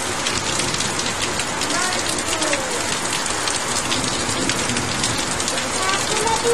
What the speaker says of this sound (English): Heavy rain and a bit of wind.